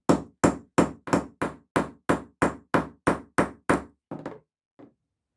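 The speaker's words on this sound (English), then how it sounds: "then I'm going to hit it with a hammer, and that spreads out the shoulders at the back of the eyelet." A hammer strikes a punch to set a metal eyelet with a washer through fabric, about eleven sharp, evenly spaced knocks in a steady rhythm, then two softer taps trailing off, close and alone.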